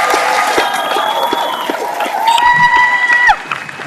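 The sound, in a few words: audience applause for graduating class at commencement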